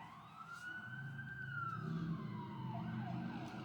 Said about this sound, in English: there's like sirens going off right now